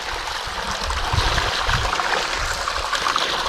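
Water gushes and trickles through river gravel in a gold prospecting classifier, a continuous splashing, gurgling wash at close range with no talk over it.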